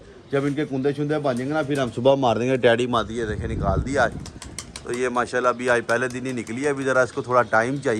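Pigeons coo in repeated soft, throaty bursts on a rooftop loft, close by, while someone talks over them almost the whole time.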